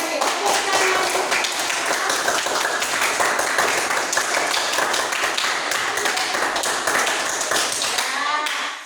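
Classroom applause for a group that has just presented, many hands clapping briskly and continuously at close range, with some voices mixed in under the claps until it stops abruptly.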